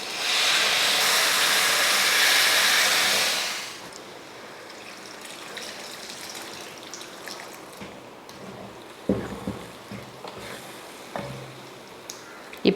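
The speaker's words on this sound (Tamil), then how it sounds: "இப்போ புளி ஊற்றிடலாம்." Tamarind water poured into a simmering brinjal and okra tamarind curry gives a loud, steady hiss and splash for a few seconds, then quiet bubbling with occasional soft knocks and clinks.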